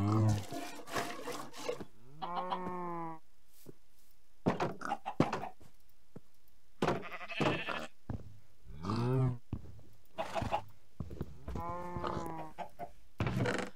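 Minecraft cows in Skyblock moo while being milked with buckets, giving a few drawn-out, pitched calls spaced between stretches of talk and blocky in-game clicks.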